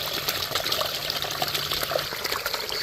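Water gushing and trickling out as a swimming pool check valve is pried up, a close, continuous splashing flow with small bubbling bursts throughout.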